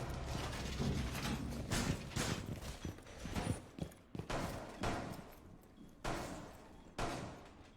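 A gun magazine is reloaded in the video game Rainbow Six Siege, a faint series of sharp mechanical clicks and clacks spread across several seconds.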